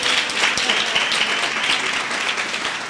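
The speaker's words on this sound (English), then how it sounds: "Do I not deserve a hand of applause?" Audience at a youth unemployment seminar in Sedibeng clapping, a dense, steady round of applause from a crowd in a hall, fairly loud throughout.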